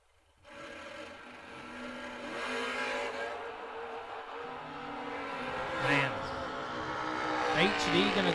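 Drag race launch with a wheel-standing Camaro and a Vega Wagon, engines roaring and building steadily as the cars pull away, continuous loud mechanical noise with rising intensity toward the end, an announcer talking over it.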